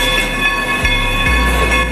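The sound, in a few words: Baldwin steam locomotive number 40 running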